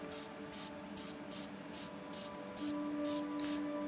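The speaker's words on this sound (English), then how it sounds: "Start spraying, and I'm going to start with this arm right here." Short bursts of spray paint hissing onto a 3D printed model kit, about eight evenly spaced puffs under a half second each, close and fairly loud over a faint steady hum.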